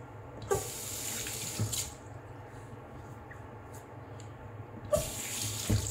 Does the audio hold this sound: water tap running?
yes